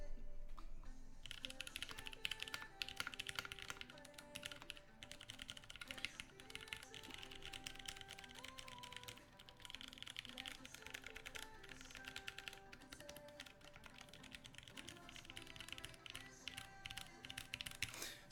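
Steady typing on a mechanical keyboard fitted with MX Brown stems in Alias housings, a fast, continuous stream of close, crisp key clacks and taps with no speech over it.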